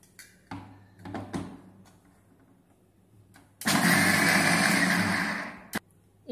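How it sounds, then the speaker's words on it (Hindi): A kitchen mixer grinder coarsely crushes soaked chana dal in a loud whirring burst of about two seconds, preceded by a few faint knocks and clicks. "मिक्सर में इसे क्रश कर लेते हैं।"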